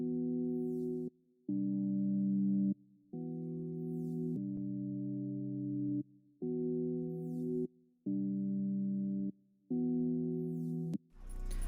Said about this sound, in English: And I used the preset synth Newtone from the Tundra Hybrid kit.